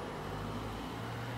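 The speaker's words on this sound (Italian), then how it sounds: "qualche automobile in transito," Faint, distant traffic on a quiet evening road, a soft steady rumble of a passing car with no voices, brief and low in level.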